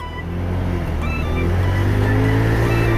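A Rapid 150 motorcycle engine revs steadily and loudly against its stock CDI rev limiter, the held drone rising slightly while the ignition cuts in.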